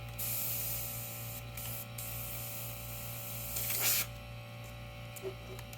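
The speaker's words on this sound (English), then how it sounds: "Spraying mostly on the shield." Airbrush or spray gun hissing steadily while painting water droplets onto a Mustang's hood, with a louder burst near the end over a constant low electrical hum.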